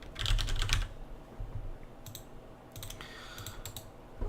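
Rapid bursts of typing on a computer keyboard: a dense cluster of clicks at the start, a pause, then more scattered keystroke runs, close up and with no talking.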